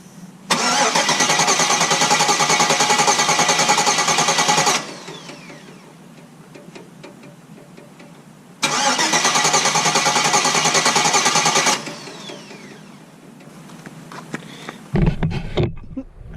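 A 5.3 LS V8 with a BTR camshaft, swapped into a Dakota, being cranked over by the starter in two long steady bursts of several seconds each with a pause between, close and loud, followed by brief clunks.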